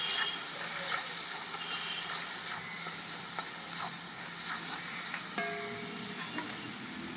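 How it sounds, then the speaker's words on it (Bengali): Prawns sizzling in a pan as mustard paste and green chilli are stirred in, a steady close hiss of frying oil with occasional scraping and clicks of a spoon, no voices. "এবার বেটে রাখা সর্ষে আর কাঁচা লঙ্কাটা দিয়ে দেবো আর একটু নাড়িয়ে চাড়িয়ে মিশিয়ে নেব।"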